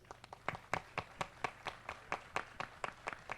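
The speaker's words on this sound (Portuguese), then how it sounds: "Uma salva de palmas, gente." Scattered applause from a small audience at an agribusiness innovation hub panel, a few pairs of hands clapping in distinct, fairly quiet claps that stay somewhat rhythmic throughout.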